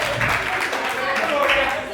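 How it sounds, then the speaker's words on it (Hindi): Audience applause at a stand-up comedy show fills the room as a steady, dense patter of clapping that continues throughout, with someone talking over it. "अरे भाई के लिए तालियां होनी चाहिए"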